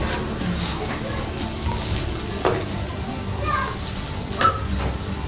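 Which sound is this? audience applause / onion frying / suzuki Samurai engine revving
onion frying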